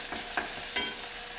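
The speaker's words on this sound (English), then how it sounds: "I put maybe about 3 tablespoons of olive oil in my pan, okay? So I saute them a little bit like this." Onion and garlic sautéing in olive oil in a pan, a steady soft sizzle with two brief stirring scrapes, close and alone.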